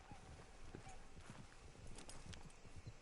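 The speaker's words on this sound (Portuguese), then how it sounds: "Ah, mas como é que o cara não vai ouvir os cavalos atrás?" Horse hoofbeats on a dirt track in Red Dead Redemption 2, a quiet, distant clip-clop in a steady trotting rhythm with faint voices murmuring over it.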